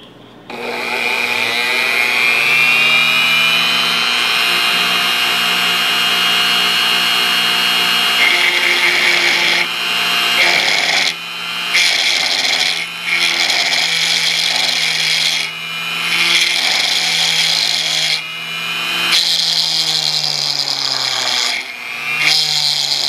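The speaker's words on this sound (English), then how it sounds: "I'm going to turn on my Dremel and start marking where that hole should be" A Dremel rotary tool grinds steadily on the frame of a Springfield Armory Mil-Spec 1911 pistol, a continuous high whine that shifts pitch as pressure changes, with brief dips where the bit lifts off the metal.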